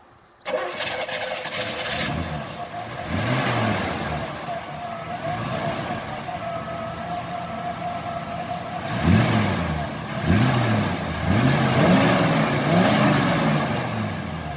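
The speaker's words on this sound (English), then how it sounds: "The engine in this car is a 350 Chevy engine" A 350 Chevy V8 in a 1967 Chevy car cranks and fires up, then settles into a steady rumbling idle with a few throttle blips and revs later on, close and fairly loud.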